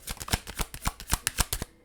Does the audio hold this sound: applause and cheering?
no